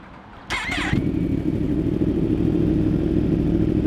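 A starter whirs briefly, then a Yamaha R1 crossplane engine with a full GP exhaust and no catalytic converter fires and settles into a loud, deep, uneven idle rumble that carries on close by.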